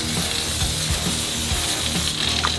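Steady crackling sizzle of bacon frying in a hot pan, continuous and close, with faint clicks and clatter underneath.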